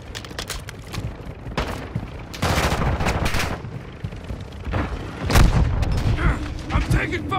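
Gunfire in Call of Duty: Modern Warfare II, with bursts of automatic weapons, heavy booms and mechanical clatter in a chaotic battle. Shots come in irregular clusters, loud and close, with louder blasts near the end.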